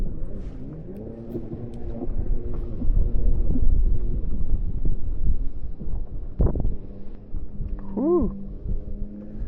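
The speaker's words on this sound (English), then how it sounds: "Wind is a ripping a towski." Wind roars steadily across the microphone outdoors while fishing, a continuous low buffeting rumble with a few brief squeaky tones near the end.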